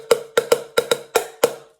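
A wooden chopstick strikes the metal-bottomed end of an old coffee tin, giving seven crisp, bright taps in an uneven rhythm, close and fairly loud with short ringing decays and no voices.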